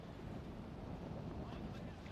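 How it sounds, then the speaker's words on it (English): Strong wind buffets an outdoor cricket ground in Rome on a dusty day, a continuous loud rushing roar that rumbles steadily and close throughout. "Just emphasizes how windy it is right now."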